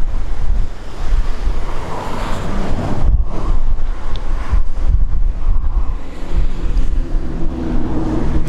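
Strong wind roars across Lake Sevan, buffeting the microphone with a constant loud rush, mixed with the wash of waves breaking against the shore.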